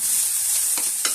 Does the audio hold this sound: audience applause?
no